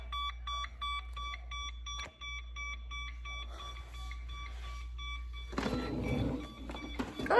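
An electronic device beeps in a quick, regular series of high-pitched tones, close and clear, before a burst of rustling handling noise toward the end.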